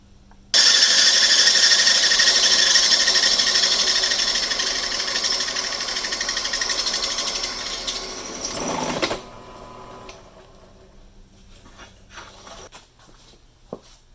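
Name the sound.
drill turning large bit slowly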